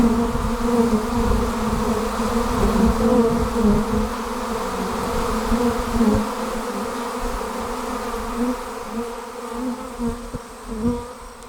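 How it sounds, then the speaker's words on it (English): A swarm of honeybees clustered in a tree gives off a dense, steady buzzing that holds loud and close throughout. The droning hum stays even, swelling only slightly now and then. "Now that we have these bees in the tree"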